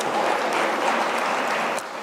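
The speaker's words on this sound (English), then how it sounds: "Give them a round of applause, at least they have arrived." A small audience at a law career fair gives a short round of applause, moderate and steady clapping that fades slightly at the end.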